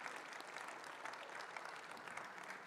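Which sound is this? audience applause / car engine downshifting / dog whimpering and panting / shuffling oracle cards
audience applause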